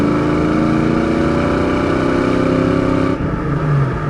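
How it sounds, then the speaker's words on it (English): 1988 Ford Mustang LX coupe with a 5.0-litre V8 and five-speed manual accelerating, the engine droning steadily and loud from inside, then a brief dip at a gear change before pulling again. "That 5-liter pulls great again."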